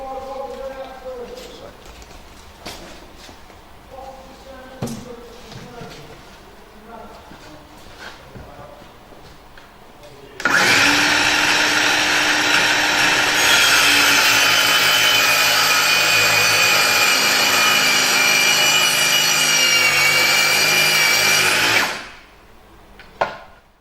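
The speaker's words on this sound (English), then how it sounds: "we're going to push the saw into the material, thus retracting the blade, retracting the guard, allowing the blade to cut into the material" A power saw with a retracting blade guard pushed into the material, first some quiet handling and shuffling, then a loud, steady, high-pitched cut lasting about eleven seconds that winds down abruptly at the end.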